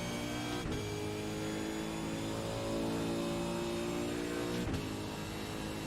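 V8 Supercar engine sound from the iRacing sim racing game at Fuji, a steady loud droning race engine held at high revs throughout, with two brief dips where gears shift.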